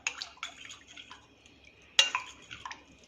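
Stirring mint sherbet with lemon juice, a spoon clinking and scraping against the vessel in several short taps with soft liquid swishing, close and fairly quiet.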